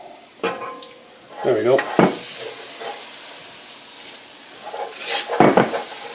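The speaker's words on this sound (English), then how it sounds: "Scrape the bottom of that pan. Get all the flavors up." A utensil scrapes across the bottom of a sizzling frying pan during Salisbury steak cooking, with bursts of scraping and clatter alongside a steady hiss; someone speaks briefly.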